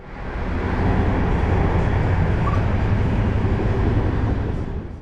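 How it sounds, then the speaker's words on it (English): A PKP Intercity train hauled by a Polish-built EP09 electric locomotive rolls along with a steady, loud rumble of wheels and carriage noise heard from inside, unbroken for several seconds. "we're now being hauled by a Polish-built EP09 electric locomotive"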